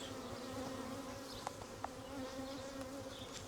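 Honeybees in an opened hive give off a steady, dense buzz close by, with a few faint knocks over the continuous hum.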